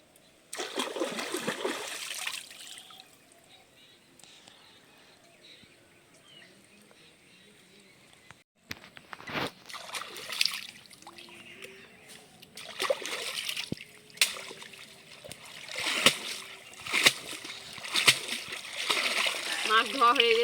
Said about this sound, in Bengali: মাছ ধোয়া হয়ে গেছে